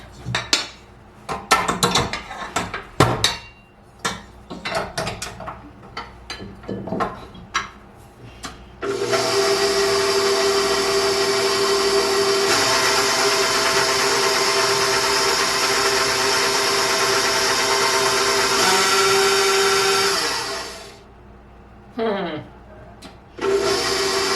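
An electric blender whirs steadily for about twelve seconds, mixing eggs and homemade spinach powder for pasta dough, after a run of clinking bowl and utensil knocks, then stops with a few short pulses.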